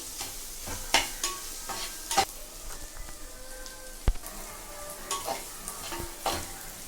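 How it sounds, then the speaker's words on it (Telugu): Masala spices frying in a pan for chicken curry, with soft sizzling and scattered spoon scrapes and taps against the pan, quiet and close, no talking. "మసాలా ఈసారి వేగిపోయిందండి ఇందులో చికెన్ వేసుకుంటున్నాను"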